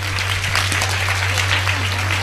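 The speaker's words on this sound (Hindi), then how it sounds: "ताली बजाओ सब लोग।" Applause from a devotional gathering's audience after gifts of air conditioners for mothers are announced, a steady wash of many hands clapping over a low constant hum, with no talk.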